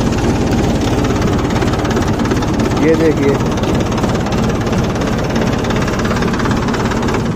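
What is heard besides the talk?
tractor diesel engine idling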